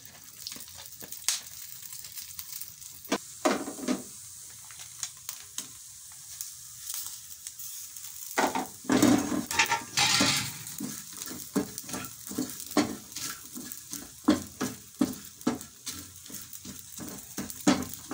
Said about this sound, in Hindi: और ये हमने सूखी मेथी भी ली है, इसको भी हमने हल्के हल्के फ्राई करना है।